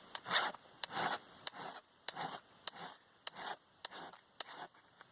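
A hand file rasps back and forth across the spine of a bushcraft knife in about ten steady strokes, each a gritty scraping pass with a small click at the turn, close and without talk.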